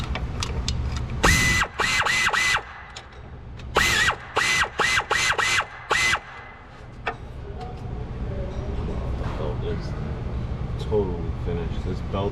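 A ratchet wrench turns the crankshaft of a 2011 Hyundai Elantra Touring 2.0 to top dead center during a timing belt job, in quick bursts of sharp, close clicking with short pauses between them, while a person talks over a background hum.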